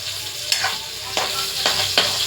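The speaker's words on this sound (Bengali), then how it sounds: "এই দেখো সব রকম মাছ ভাজা হচ্ছে" Pomfret and rohu fish fry in oil in a pan, a close, loud, steady sizzle crackling throughout with a few sharper spatters and scrapes.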